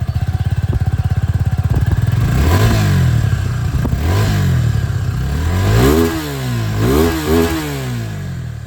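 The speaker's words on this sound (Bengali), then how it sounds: "এখানে এক্সস্ট সাউন্ড ওটা একবার শুনিয়ে দিতে চাই" A 2024 Honda CB300F motorcycle runs its exhaust at close range: a steady idle thump, then a series of loud revs rising and falling.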